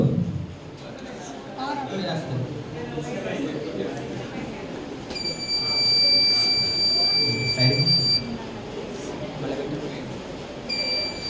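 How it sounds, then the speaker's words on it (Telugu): The buzzer of a smart shoe fitted with an ultrasonic sensor sounds a sharp, high, steady tone for about three seconds, then gives a short blip near the end, while a person talks throughout. "అల్ట్రాసోనిక్ సెన్సార్కి ఏదైనా అడ్డం వచ్చినప్పుడు ఆ బజర్ అనేది ఆన్ అవుతుంది"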